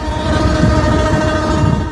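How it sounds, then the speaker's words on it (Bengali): A train running on the newly opened Dhaka–Bhanga rail line in Faridpur gives a loud, steady rolling rumble up close, with a sustained horn-like tone riding over the wheel noise. "10 অক্টোবর প্রধানমন্ত্রী শেখ হাসিনার উদ্বোধনের মধ্য দিয়ে বাণিজ্যিকভাবে ঢাকা ফরিদপুরের ভাঙা পর্যন্ত চলবে ট্রেন।"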